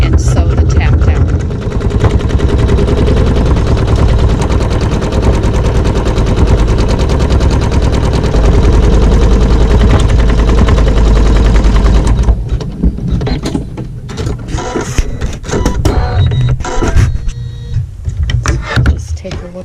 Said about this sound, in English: I'm going to go ahead and sew the tack down.